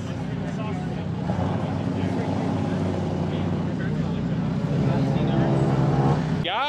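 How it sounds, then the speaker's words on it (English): A Nissan GT-R fitted with an Armytrix exhaust at a crowded car meet, its steady engine rumble running continuously beneath loud crowd chatter and nearby voices. "Got that Armutrix exhaust."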